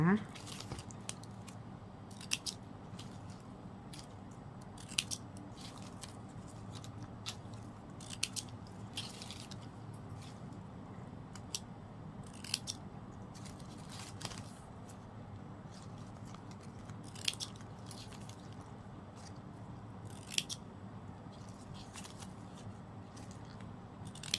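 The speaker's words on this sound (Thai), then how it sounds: "พอเสร็จแล้วเราก็ ตัดปลายริบบิ้นนะคะ" Scissors snip the ends of ribbon during handmade work on a ribbon-flower ornament for ceremonial coin scattering, a scattering of faint, sharp little cuts spread through the clip over a soft steady background.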